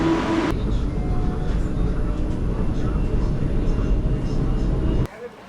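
Station ambience at KL Sentral in Kuala Lumpur on the KLIA Transit rail line, a loud steady rumble of trains and crowd noise that cuts off abruptly near the end, with no clear talk.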